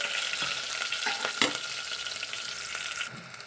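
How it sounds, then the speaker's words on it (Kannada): Onions sizzling in hot oil with popping mustard seeds, a steady close hiss broken by a few sharp crackles and stirring scrapes in the pan. "ನಮ್ಮದು ಈರುಳ್ಳಿ ಸ್ವಲ್ಪ ಫ್ರೈ ಆಗಬೇಕು ರೀ"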